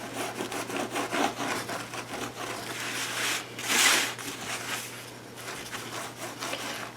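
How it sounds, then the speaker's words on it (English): Steady close rubbing and scraping as black paint is worked off embossed foil to form a patina, a continuous gritty friction sound that swells briefly midway, with no talk. "you're just going to go in here and start rubbing some of that black paint off."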